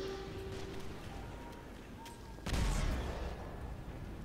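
A single deep mortar boom from the Toy Soldiers video game thumps midway through a quiet wash of distant battle noise, fairly faint overall.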